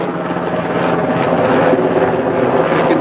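A helicopter drones steadily overhead, its broad rotor roar loud and continuous throughout with no voices.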